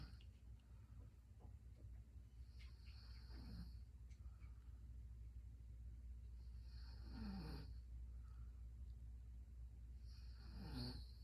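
A woman snores while breathing through her nose, three slow faint rasping breaths spaced several seconds apart over a steady low hum and background noise.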